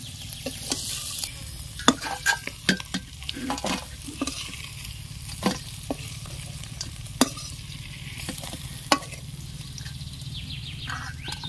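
Dry fish frying in a pan in an Odia village kitchen, with a steady sizzle beneath repeated clicks and scrapes of stirring, close and fairly quiet, with no talk.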